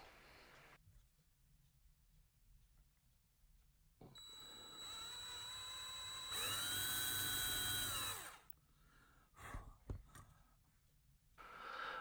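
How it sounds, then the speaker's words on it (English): A power drill boring into a small metal post of a toy car whines steadily, rising in pitch as it spins up and bites, then winds down with a few short bursts; no talking. "drill down into the post, nice and slow and steady wins the race"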